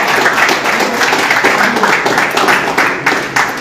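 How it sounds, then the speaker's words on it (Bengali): Audience clapping at a jersey-presentation ceremony for a local football eleven as a goalkeeper's jersey is handed over, a steady, fairly loud wash of many hands that keeps going throughout without breaks. "সকলে একটু করতালি সকলে একটু করতালি"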